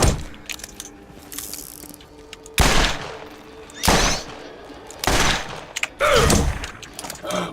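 Gunfire in Borderlands, a handful of sharp, loud shots spaced a second or so apart over quieter mechanical clicks and clatter between them.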